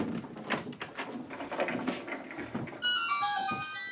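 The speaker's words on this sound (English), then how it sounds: "when it pivots open, it actually makes the Zelda sound" A pivoting secret door in a Nintendo-themed room swings open with a knock and shuffle of handling, then a bright magnetic Zelda-style chime rings out in a quick sparkling run of notes near the end.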